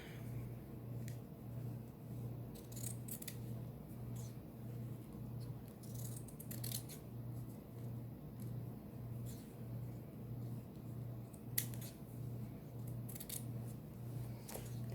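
Scissors cut through fabric for a sewn face mask, a series of soft crisp snips spread across the stretch over a steady low background hum, no talking.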